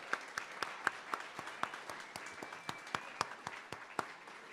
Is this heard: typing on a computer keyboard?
no